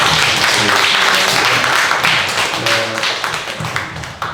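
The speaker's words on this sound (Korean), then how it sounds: "큰 박수 한번" Audience applause at a book talk in a bookstore: a dense burst of many hands clapping that holds steady and then gradually thins and fades toward the end.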